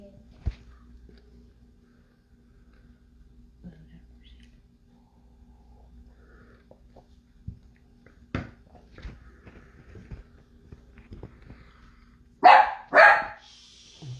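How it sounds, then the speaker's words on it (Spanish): Dog barks several times in a quiet indoor room, with brief sharp yelps and scattered knocks before a pair of louder close barks near the end. "Ese es mi perro."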